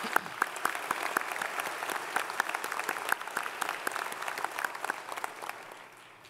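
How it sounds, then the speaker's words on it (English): At an Eastern Florida State College spring graduation ceremony, a large audience gives sustained applause with dense, crisp clapping that is fairly distant in a big hall and fades out near the end. "Let's give a final round of applause to all of our special graduates."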